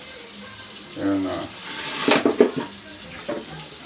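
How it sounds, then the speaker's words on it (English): Water runs from a kitchen tap into a sink of soapy washing-up water, a short splashing swell with brief clatters, while someone speaks briefly over it. "I like to have soapy water, that way I can wash stuff as I go along"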